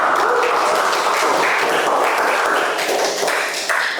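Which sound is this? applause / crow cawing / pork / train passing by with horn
applause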